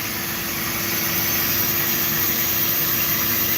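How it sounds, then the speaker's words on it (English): A flat carbide tool cuts a spinning piece on a wood lathe, giving a steady loud whirring drone with a broad rough hiss that runs unbroken throughout. "Work that down with my flat carbide."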